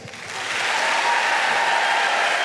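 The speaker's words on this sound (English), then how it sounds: "Let us applaud Jonathan on his well-deserved promotion to principal." An audience applauds a dancer's promotion to principal at a Black History Month event, with clapping that swells over the first second and then holds as a full, sustained ovation.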